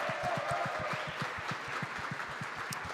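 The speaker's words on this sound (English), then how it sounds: "Give them a big round of applause." Audience applause at a live sports talk show, a quiet, steady patter of clapping from a modest crowd, fairly distant and even throughout.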